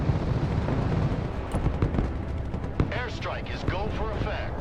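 Heavy, steady rumble of airstrike explosions and artillery fire in the Broken Arrow war game, continuous booming with sharper impact cracks scattered through, layered with radio-style voice chatter.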